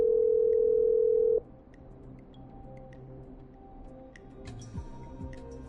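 Telephone dialing in the Killer Frequency video game: a loud steady dial tone holds for about a second and a half, then cuts off, leaving quieter clicks and soft faint tones.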